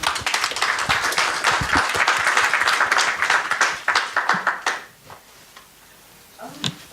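An audience claps at the end of an academic lecture, a lively round of individual hand claps that tapers off into scattered last claps and then quiet room tone, with one final stray sound.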